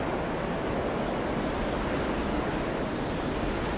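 Howling snowstorm wind in the video game Skyrim, a steady, loud broadband roar that stays constant throughout with no gusting breaks and no voices.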